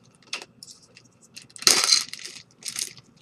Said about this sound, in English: I'll go ahead and pop open this bag here